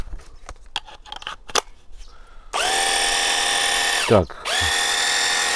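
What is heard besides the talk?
Wosai MX-001 cordless battery high pressure washer running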